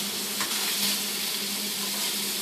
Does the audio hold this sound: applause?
no